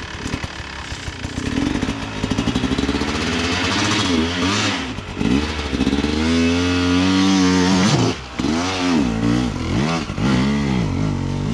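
Dirt bike engine on a motocross track starts and is revved repeatedly, loud and close, with rising and falling throttle blips over a steady idle.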